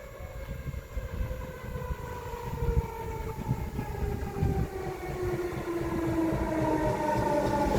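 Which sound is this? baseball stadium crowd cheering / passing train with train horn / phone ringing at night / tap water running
passing train with train horn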